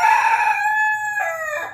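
A rooster crows loudly and close by indoors, one long drawn-out call with clear harmonic tones ending in a falling tail, from backyard chickens brought inside from their coop.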